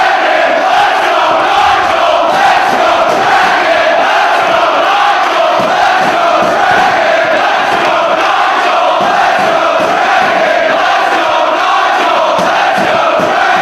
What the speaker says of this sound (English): This crowd in Philadelphia is split in terms of who they are cheering for in this particular matchup.